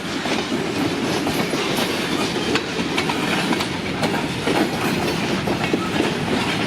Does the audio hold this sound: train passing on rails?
yes